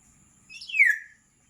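A large yellow bird calls once near banana plants in the morning, a single clear whistled note that sweeps downward, close and alone against quiet.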